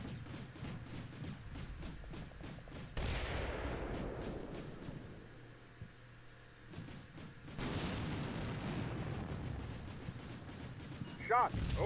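Gunfire erupts around a damaged Bradley fighting vehicle in Combat Mission Black Sea: a dense run of shots and booms, a quieter lull, then another loud volley, with a voice speaking over it.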